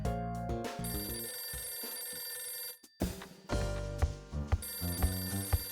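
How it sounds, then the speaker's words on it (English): A telephone rings in the video game Last Window: Secret of Cape West, a repeated electronic ring cut by a brief pause, then resuming over low game music. "My phone's ringing."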